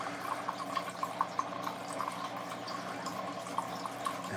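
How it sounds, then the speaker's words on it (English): Water gurgles and drips as it is drawn through a bell siphon in a small closet aquaponics system, with irregular close droplet plinks and trickling over a low steady hum. "Once it sucks water into the bell siphon, there's no more air trapped in there, and so it begins to suck the water from the bottom"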